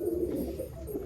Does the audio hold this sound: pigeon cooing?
yes